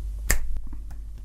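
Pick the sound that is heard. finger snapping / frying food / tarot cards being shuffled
finger snapping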